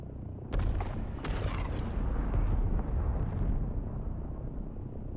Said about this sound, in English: There's a spice explosion.